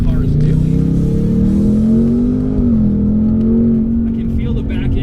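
A 2024 Ford Mustang Dark Horse accelerates hard, its engine drone climbing steadily in pitch as it revs, loud and close throughout with a speaking voice over it.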